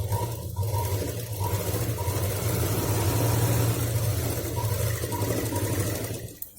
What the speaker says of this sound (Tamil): வச்சுட்டு இங்கேருந்து இங்கே வரைக்கும் ஒரு தையல் போட்டுக்கலாம்